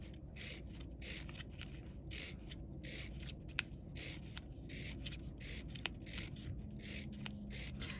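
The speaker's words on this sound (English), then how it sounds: "now I am just going to cut very thin lines" Scissors snip thin fringe lines into paper for a paper daffodil craft, a quiet run of short, crisp cuts in quick succession, close to the listener and heard alone.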